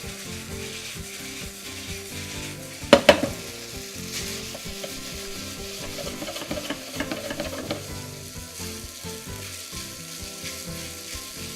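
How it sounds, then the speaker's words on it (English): Food stir-frying in a pan with mirin and fish sauce, a steady crackling sizzle throughout with a brief louder clatter of stirring near the start, no voices. "Now when we're stir frying"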